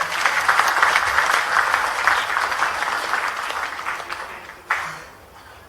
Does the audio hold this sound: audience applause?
yes